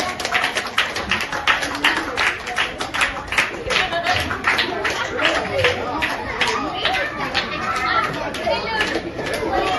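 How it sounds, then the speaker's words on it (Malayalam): Audience applause at a seventh-anniversary stage event, steady crowd clapping filling the whole stretch with busy chatter and children's voices mixed underneath. "കൈയടിക്കുക എല്ലാവരും"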